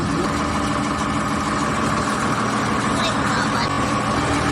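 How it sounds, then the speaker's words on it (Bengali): Inside the kitchen of a river launch in the Sundarbans, the boat's engine drones loud and constant, a steady heavy rumble filling the space with no change in pace. "রান্নাঘরের ভিতরে না প্রচণ্ড আওয়াজ হচ্ছে ইঞ্জিনের, মানে লঞ্চটা চলছে আওয়াজটা"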